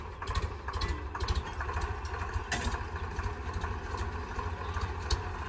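Tractor engine running steadily while the tractor is stuck in mud, a continuous mid-pitched rumble with irregular revving bursts, fairly close, with no voices.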